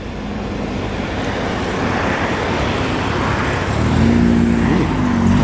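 A Mini fitted with a Honda VTEC engine runs at an outdoor car meet, a steady engine drone over road and traffic noise, with a rising tonal hum building near the end; no one speaks.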